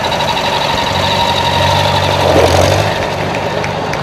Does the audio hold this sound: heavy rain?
no